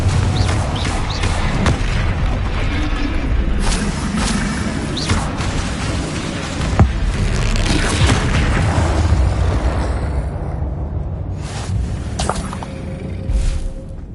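Rapid spell combat in Hogwarts Legacy: repeated booming magical explosions and whooshes layered into a continuous loud barrage, with sharp bursts punctuating the roar.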